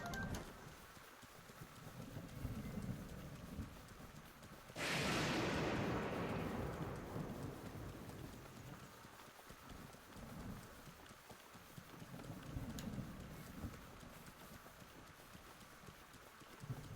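Rhythmic hoofbeats of a galloping horse in The Legend of Zelda: Breath of the Wild run steadily throughout, with a sudden loud burst of rushing noise partway through.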